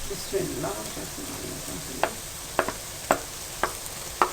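Ginger and green chilies sizzle in hot oil with browned onions and bitter gourd, a steady frying hiss broken by a few sharp clicks of a spoon against the pan.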